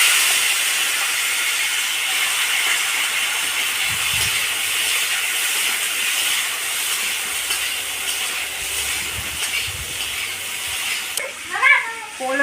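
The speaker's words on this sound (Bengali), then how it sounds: "এবার আমি এটাকে সবজিগুলোকে দিয়ে দেবো।" Vegetables, including potato, papaya and drumstick, go into a hot pan and give off a loud, steady hiss that runs through most of the clip before cutting off near the end. Brief voice sounds come at the close.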